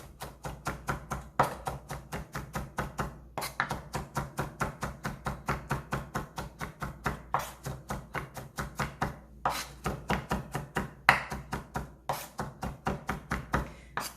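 A kitchen knife on a cutting board finely mincing onion or parsley for tartar sauce, a long run of rapid, crisp, evenly paced chops in short bursts with brief pauses, close and clear with no talking.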